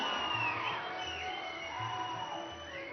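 A steady wash of audience applause and crowd noise fills a hall at a 2024 Padma Awards felicitation event hosted by the Telangana state government, saluting two Padma Vibhushan awardees. It is sustained and moderately loud, with faint tonal sounds underneath.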